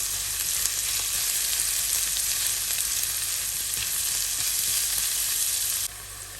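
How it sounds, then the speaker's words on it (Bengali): Onion frying with crushed chili in a pan, a steady dense sizzle close up that holds throughout and drops slightly in level near the end. "এখন একসাথে এগুলাকে ভেজে নিব।"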